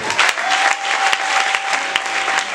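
Church congregation clapping during a French-language sermon, a dense, steady burst of applause filling the room for a couple of seconds.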